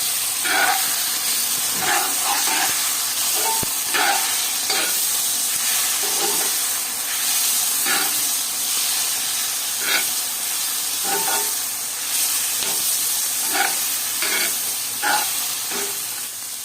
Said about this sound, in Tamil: ரெண்டு நிமிஷம் போல் நல்லா வதக்கி எடுத்துக்கலாம்